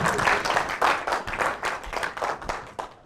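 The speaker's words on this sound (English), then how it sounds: "Give Dan a big round of applause." An audience claps for Dan, a participant at a team communication skills session, in a brief burst of moderately loud applause with uneven, fading rhythm.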